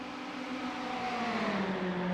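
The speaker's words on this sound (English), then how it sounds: "Got a line of cars up here behind Strang going down the back stretch with all this draft taking effect" A pack of Ferrari Challenge race cars drafting down the back stretch at Road Atlanta in iRacing drones with steady engine whine, rising slightly in pitch as they run close together.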